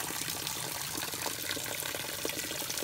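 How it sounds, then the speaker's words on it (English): Clean water pours off a spring along the Appalachian Trail in a steady, close, continuous splashing flow, with no voices. "Nice clean water flow coming off of there now."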